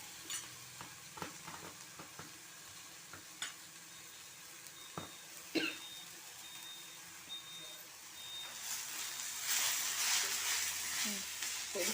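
Tomatoes and coconut frying in a pan give a soft, steady sizzle with scattered stirring clicks. The frying swells louder and brighter toward the end.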